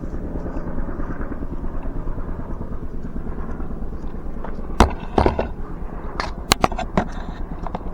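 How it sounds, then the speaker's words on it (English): A steady rhythmic thudding of helicopter rotor blades, continuous and fairly close, with a few sharp pops and clicks breaking in later. "Look at that chopper."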